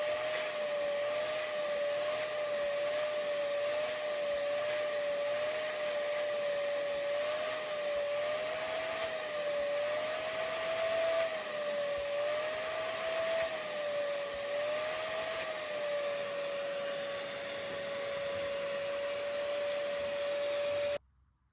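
A shop vacuum runs through an Oneida low profile Dust Deputy cyclone, a loud steady whine with a wavering motor tone and light rattling debris, then cuts off abruptly at the end.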